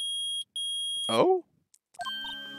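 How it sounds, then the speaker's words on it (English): A metal detector in the video game Phoenix Wright: Ace Attorney gives a steady high electronic beep that briefly cuts out and resumes, broken by a short burst of chirpy game sounds, then a jingle of tones. "It's beeping. The metal detector has found something. Sure is loud enough about it."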